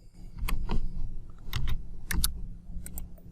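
Scattered clicks of computer keys being typed in short irregular bursts while entering dimension values in AutoCAD, close and fairly crisp, with no voices.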